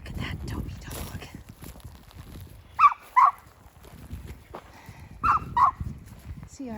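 Outdoors on a hillside among aspen groves, a dog gives two pairs of sharp, moderately distant barks amid quiet background sounds and soft movement.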